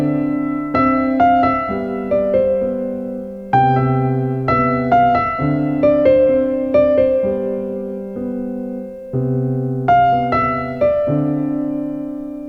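Cocktail-style pop piano, with left-hand low notes and chords under a right-hand melody. Chords ring and sustain in a steady, unhurried rhythm, played clearly and close with no voices.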